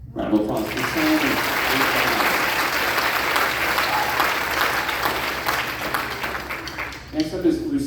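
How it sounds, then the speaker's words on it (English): A school audience applauds a 6th grade band student at a middle school recognition concert: dense, steady clapping fills the hall and thins out near the end, with voices audible at the start and close. "Round of applause for Sammy."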